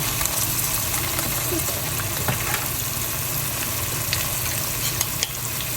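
Chopped onion fries in a pan of spice masala for a liver curry, giving a constant, loud, dense sizzle with scattered small pops and crackles.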